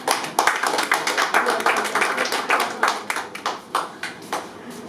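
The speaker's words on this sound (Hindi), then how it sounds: "जोरदार तालियां।" An audience at a communication talk gives loud applause, a group of people clapping in irregular bursts with sharp individual claps standing out, tapering off toward the end.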